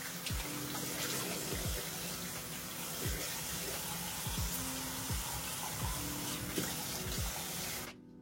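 Running water streams into a sink as a face is rinsed, a steady close splashing wash with small irregular splatters, ending abruptly when the tap stops.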